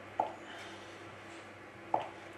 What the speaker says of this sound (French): je vais la découper grossièrement